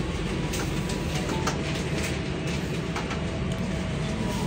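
Steady, loud rumble and rattle inside a carriage of the Banyubiru economy class train running between Solo and Semarang, continuous throughout with faint clicks of the rails.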